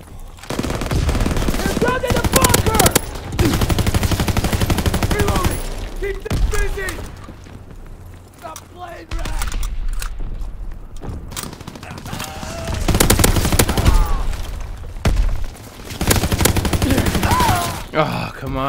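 Sustained bursts of GPMG machine gun fire in the Call of Duty WW2 Winter Siege game, loud and close, rattling in long volleys with brief pauses, a voice talking over parts of it.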